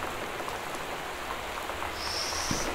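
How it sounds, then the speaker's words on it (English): Steady, even rain hiss fills the scene in the video game Gone Home, a continuous patter with no speech and a faint higher whistle toward the end. "Oh, goody. Rain."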